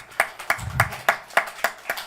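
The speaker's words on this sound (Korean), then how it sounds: "박수 한번 쳐줍시다." Congregation clapping in a church during a sermon, a handful of sharp, evenly spaced claps in a slow rhythm, close and distinct with little else beneath.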